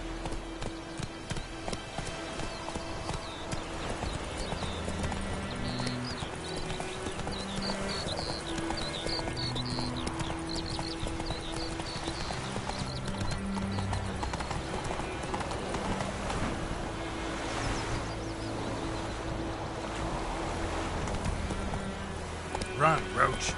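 Roach the horse galloping in The Witcher 3, rapid rhythmic hoofbeats close and continuous under game music, with characters talking over the ride.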